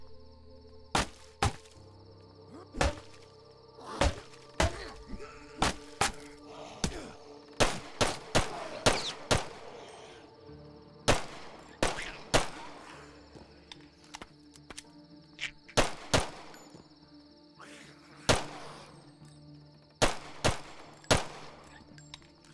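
Gunshots ring out in The Last Stand: Aftermath, a video game, as sharp, loud cracks fire singly and in quick bursts, irregularly spaced across the stretch, over a faint insect-like hum and low ambient drone.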